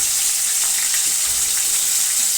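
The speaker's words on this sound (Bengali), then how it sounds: "ফ্রিজ থেকে মাছ বের করে লবণ হলুদ মাখিয়ে নিয়েছি, নিয়ে এই যে মাছগুলো ভাজা চলছে" Fish pieces rubbed with salt and turmeric fry in hot oil, giving a loud, dense, continuous sizzling hiss with no talking.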